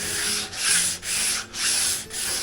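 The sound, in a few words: sanding a boat transom with sandpaper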